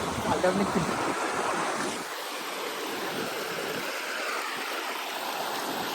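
Steady, broadband rushing water roars continuously, loud and close, a river waterfall pouring down without pause.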